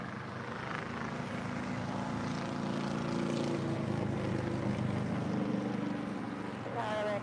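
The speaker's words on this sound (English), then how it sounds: "The Dreamliner getting ready for a departure on 25 right." A Boeing 787 Dreamliner preparing for departure on runway 25 right at LAX, a steady broad roar of jet engines with wind, continuous and fairly distant, with faint talk in the background.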